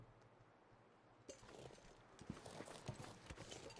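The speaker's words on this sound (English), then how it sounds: "That's a wolf, and probably close." Wolf footsteps in the survival game The Long Dark, several soft padding steps close by that start after a quiet moment and continue irregularly over low ambient noise, with no talk.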